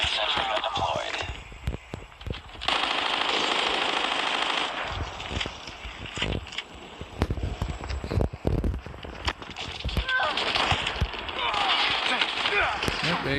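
Automatic sentry gun firing in Call of Duty Mobile, sustained bursts of rapid gunfire mixed with other weapon shots and footsteps, loud and close across a busy multiplayer match.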